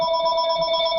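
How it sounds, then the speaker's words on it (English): A phone rings continuously with a bright, steady electronic tone, loud and close, with no voices over it. "CM Punk keeps calling. I'm not answering"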